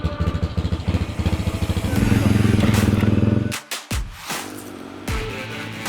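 Pink Biggie dirt motorcycle running over a greasy, muddy dirt track, its engine chugging in a steady pulsing rhythm that swells, then cuts into brief revving bursts and sputters, loud and close.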